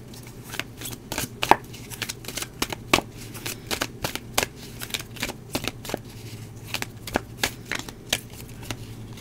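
Tarot cards shuffled and drawn, a steady run of crisp snapping and riffling card strikes at close range over a faint hum, with no talking.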